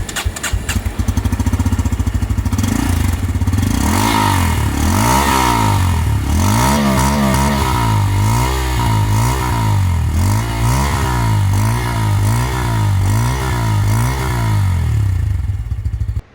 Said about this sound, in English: So that was the exhaust note of the Pulsar N160.